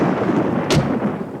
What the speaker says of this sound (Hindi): लगता है बारिश होगी। अंदर चलो।